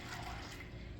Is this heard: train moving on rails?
no